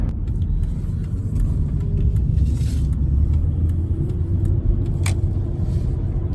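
A Ford Falcon XG GLi Longreach ute cruises along the freeway, a steady low engine and road rumble from inside the cab with tyre noise and occasional faint rattles.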